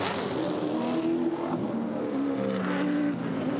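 Mustang touring cars race at Sandown Raceway, engines roaring in a steady, slightly distant drone with pitch shifts from acceleration and passing cars.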